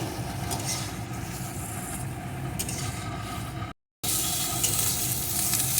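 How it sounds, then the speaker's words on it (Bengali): Brinjal pieces frying in oil, a dense steady sizzle close by with a low rumble underneath, briefly cut to silence before the frying noise resumes. "কয়েক টুকরো বেগুন বেগুনটাকেও আমি একটু ভেজে নেব"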